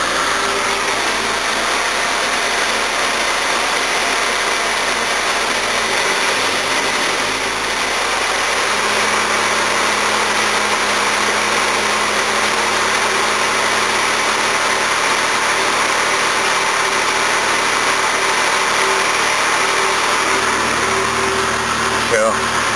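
A 1969 Jaguar XJ6 engine idles steadily with a low, even rumble, close by and continuous with no speech over it, after its timing chain was replaced.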